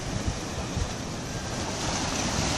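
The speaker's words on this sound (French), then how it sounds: "il y a une petite houle sympathique qui va, qui vient. Ça fait des cascades quand le reflux est là" Ocean swell washing against the north harbour jetty at Port Ouest, Réunion, at dusk, a continuous loud roar of surging and receding water with broadband wash and some wind noise, no talk.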